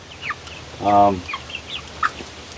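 Chickens in a greenhouse give scattered soft clucks and chirps, with one louder drawn-out squawk in the middle, fairly close and otherwise quiet.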